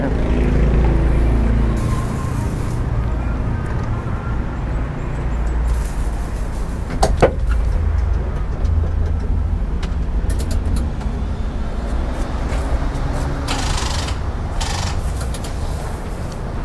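A big-turbo race car engine just back from competition runs as a loud, steady, close rumble throughout, without distinct rev peaks.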